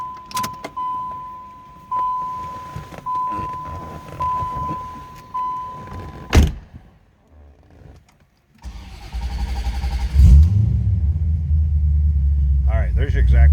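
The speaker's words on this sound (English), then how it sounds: "Let's go ahead and fire this up so you can hear it" Chimes ring, then a door thumps and a 1989 Chevrolet Corvette engine cranks and catches, settling into a loud, deep idle.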